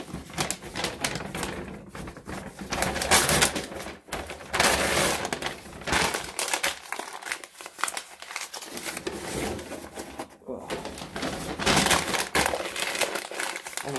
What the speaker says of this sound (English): 4 minutes of me just crumpling up paper.